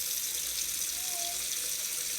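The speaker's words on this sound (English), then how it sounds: "I'm actually going to fill it with cold water to speed up cooling down" Cold tap water runs into a kitchen sink around a pot of hot milk, a steady hissing gush at even volume throughout, close by with no voices.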